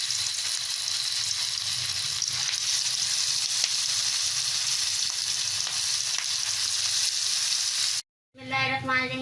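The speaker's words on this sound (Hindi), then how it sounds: "ये हमारा ऑयल गर्म हो चुका है। अब हम इसमें एक एक करके डालेंगे" Shami kababs sizzle steadily in hot oil, a dense, even frying hiss that runs loud and unbroken for about eight seconds, then cuts out briefly before resuming.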